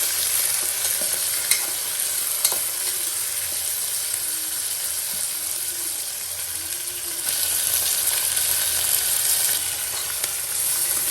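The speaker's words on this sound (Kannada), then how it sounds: "ಈಗ ಅವರೆಕಾಯಿ ಹಾಕ್ಕೊಳ್ಳೋಣ ಅದರಲ್ಲಿ ಚೆನ್ನಾಗಿ ಎಣ್ಣೆಯಲ್ಲಿ ಫ್ರೈ ಮಾಡ್ಕೊಳ್ಳೋಣ ಚೆನ್ನಾಗಿ" Hyacinth beans frying in oil for avarekalu masala bath, a loud dense sizzle and crackle filling the whole stretch with faint scraping of the stirring spoon, close up and continuous, with no one talking.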